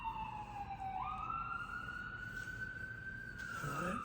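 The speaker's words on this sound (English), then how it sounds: "Besides the symphony of sirens," A wailing emergency vehicle siren sweeps up and down on a rainy New York City street, distinct above a steady background of traffic and rain and heard from a moderate distance.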